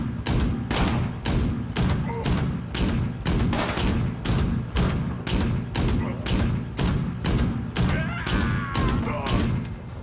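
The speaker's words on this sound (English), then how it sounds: "another one for the Gatling gun" Rapid, heavy bursts of Gatling gun fire from Fallout 76 pound out in dense repeated volleys that nearly fill the stretch, with only brief gaps between them.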